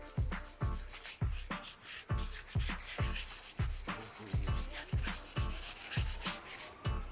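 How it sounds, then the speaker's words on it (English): Rhythmic back-and-forth strokes of 240 grit sandpaper lightly sanding a surface, each pass a dry scratchy rub repeating steadily about twice a second, close and clear with no talking. "start with sanding down the area. We use a 240 grit paper so you get a light sanding"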